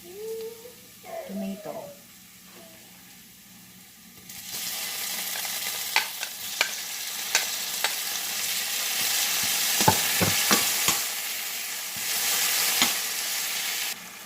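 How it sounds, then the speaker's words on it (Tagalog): Chopped tomato goes into a pan of golden brown onions and hits the hot oil with a steady frying sizzle, broken by repeated sharp clicks of a spoon or spatula stirring. Brief speech comes at the start before the pan noise builds. "medyo na golden brown na yung onion, guys. Ilagay na natin yung tomato."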